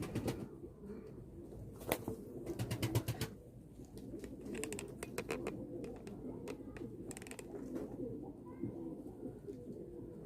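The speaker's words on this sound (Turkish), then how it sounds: "Gerçekten güzel kuşlar arkadaşlar." Pigeons coo steadily in a coop or loft, soft repeated low calls mixed with rustling and a few brief wing flaps.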